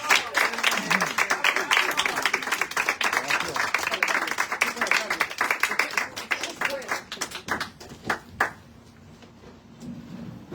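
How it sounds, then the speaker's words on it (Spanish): An audience at a literary reading and performance event bursts into loud, dense applause that goes on for about eight seconds, then thins to a few scattered claps and fades out. "Un aplauso para Carlos Fernández."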